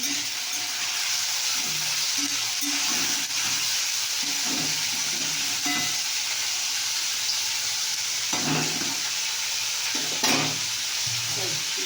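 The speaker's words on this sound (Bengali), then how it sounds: "চলো আলুটাও নাড়ি।" Potatoes frying in a pan are stirred, with a steady sizzle under repeated scraping strokes of a spoon, close and continuous throughout.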